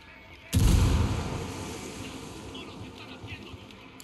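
A grenade in Ghost Recon Wildlands detonates with a single heavy boom after a short quiet stretch, then a long rumbling decay that trails off into faint background noise.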